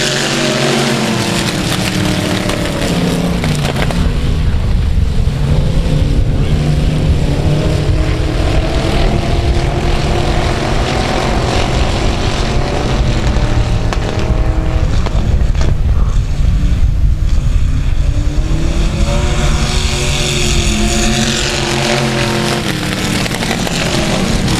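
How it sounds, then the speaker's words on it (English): E-Mod race cars roar through a heat race at South Texas Speedway, a loud, continuous wash of engine noise with rising and falling pitches as cars pass, sustained throughout with no talk. "Green flag, we're racing."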